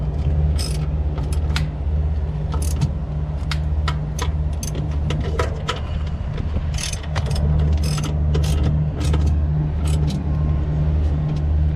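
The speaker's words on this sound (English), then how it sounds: "Tighten these screws back up here." Screws are tightened on the adjustment mount for an HVAC blower belt, giving a quick run of sharp ratcheting clicks in irregular bursts over a steady low mechanical hum.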